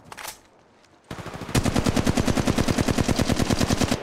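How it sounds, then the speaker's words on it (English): Gunfire in Apex Legends Mobile: after a brief quieter opening, a loud automatic weapon unleashes a fast, steady, sustained stream of shots that runs to the end. "Opening fire."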